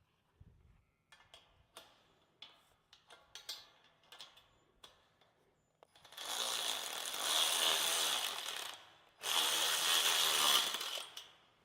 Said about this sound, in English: Let's get our 11 mil wrench.